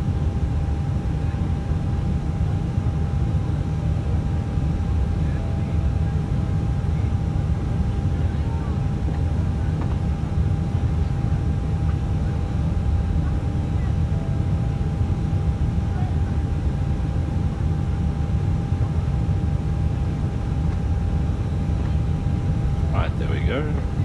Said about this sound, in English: we'll start up engine 2, then engine 1, and we will push to face our left